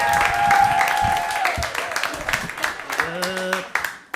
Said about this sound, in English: Start clapping, start clapping.